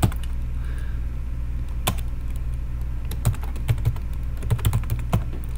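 Keys clack on a computer keyboard in irregular bursts of close, crisp taps, with a few louder single strokes spaced out over a low steady room hum; no one speaks.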